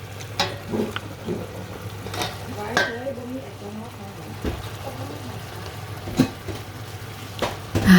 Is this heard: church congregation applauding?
no